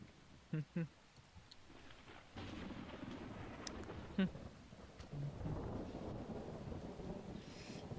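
Thunderstorm weather in the video game Creatures of Sonaria brings soft steady rain with low thunder rumbling underneath, broken by a few sharp clicks and knocks, and a voice briefly speaks partway through.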